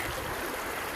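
A river runs among hills in a forest, its continuous close rushing flow filling the moment without voices.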